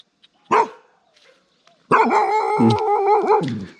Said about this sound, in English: That's a bark, means they're scared.